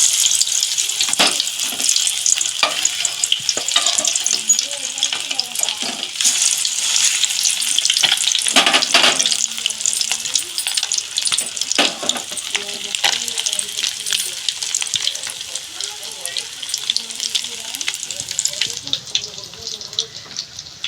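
Chicken leg pieces for biryani fry in hot oil with a bright, continuous, close sizzle broken by stirring clatter and occasional splashes, while a voice talks now and then.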